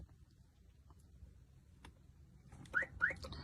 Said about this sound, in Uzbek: Mashina o'zi 2 marta signal beradi.